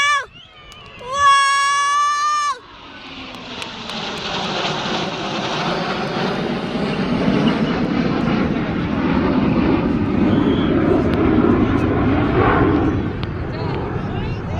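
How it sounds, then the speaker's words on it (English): Surya Kiran team jets performing at an air show in Ranchi, swelling into a broad, rising roar as they pass, after a brief high-pitched whistle and excited crowd voices at the start. "There are the planes!"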